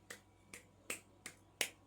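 Five sharp, evenly spaced claps made with stiff arms and fingers held out, each a short bright smack standing alone in a quiet room.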